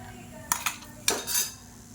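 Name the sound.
spoon transferring fried chutney ingredients into mixer jar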